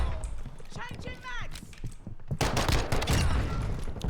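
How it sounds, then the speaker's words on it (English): Rapid bursts of X12 machine pistol fire in a shooter video game, dense crackling shots layered with game effects and a voice talking over them, the heaviest stretch in the second half. "obviously the machine pistols have a lot higher fire rate, but they also get a lot more recoil with that"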